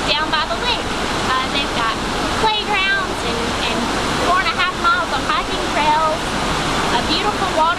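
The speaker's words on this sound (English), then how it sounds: "a beautiful waterfall." Waterfall at High Falls State Park in Georgia, a steady loud rush of falling water heard up close, with a voice talking over it throughout.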